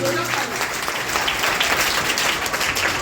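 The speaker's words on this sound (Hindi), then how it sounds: "एक बार ताली जाए के लिए।" Applause from a school audience for a student after a short play, a dense, steady clatter of many hands filling the space, with faint voices mixed in.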